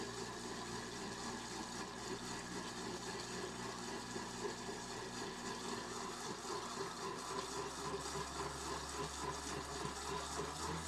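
A steady, whirring blender motor drone with a grinding churn as wild blueberries are blended, continuous and fairly quiet, shifting to a lower hum near the end.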